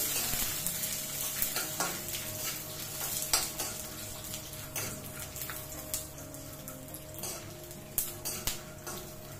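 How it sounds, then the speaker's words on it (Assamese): Peanuts frying and being stirred in hot oil in a home kitchen pan: a steady close sizzle with repeated scraping stir strokes and light clinks of a utensil against the pan, no talking. "এয়া মই গুটেখিনি বাদামে ভালদৰে ভাজি ললো"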